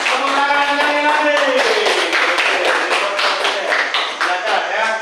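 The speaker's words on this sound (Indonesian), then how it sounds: "Oke, kita tepuk tangan buat kelompok produsen. Tepuk tangan lagi." A classroom group cheered on at a school presentation, with loud, rhythmic hand-clapping over a sustained voice, steady and close throughout.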